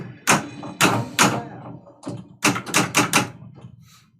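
Pinball ball rattling hard off targets on a CSI pinball table, a series of sharp loud clacks and thuds in irregular bursts with brief gaps between.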